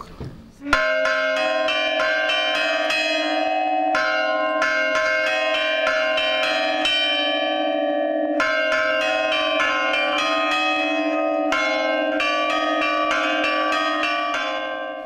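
Carillon bells in a church bell tower at Champignol-les-Mondeville ring out a waltz, a lilting tune in triple time, bright and resonant, with tones overlapping and sustaining for the whole passage.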